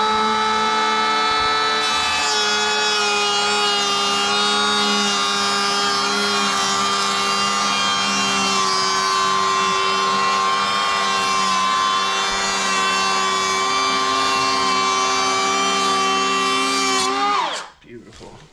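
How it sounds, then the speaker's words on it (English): A DeWalt 20V cordless planer, set for a 1/64-inch cut, shaves a painted door in one long, loud, continuous high whine that ends abruptly as the motor cuts off. "Now I just have to plane it. So let's fire this thing up."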